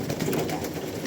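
Pigeons kept by a home flock keeper coo softly at feeding time, a low murmuring rumble that runs steadily through the short moment with no talk.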